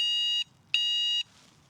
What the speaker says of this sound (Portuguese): Tem buzina.